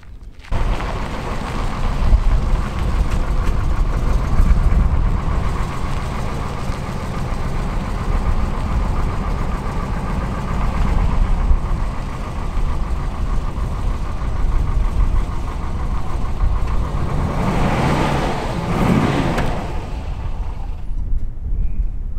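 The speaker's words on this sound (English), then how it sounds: "next we're gonna get out my 58 Chevy. We're getting it running right now." A 1958 Chevy hot rod with a 350 motor runs steadily nearby, its engine rumbling and idling for the whole stretch without talk, with a brief surge of louder revving near the end.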